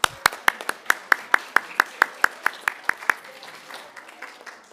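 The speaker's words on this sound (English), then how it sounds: "Let's give a round of applause to us." A small group claps in an even rhythm after a Christmas tree gathering, about fifteen crisp, close claps that fade and scatter toward the end.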